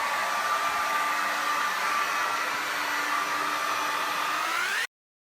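A hair dryer blows steadily and close by, drying curly hair with a constant, loud whooshing hum that stops abruptly as it is switched off.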